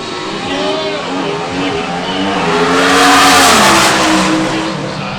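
Drag racing cars at the NHRA Midwest Nationals accelerate down the racetrack with a loud engine roar that swells to a peak and then fades, while an announcer talks over it.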